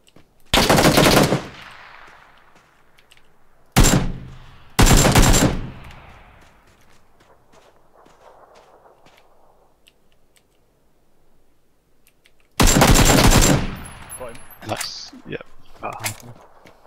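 Loud machine-gun bursts from a PUBG battle royale match come in several separate volleys, the first and last longest, followed by fading echoes and a few scattered single shots in between.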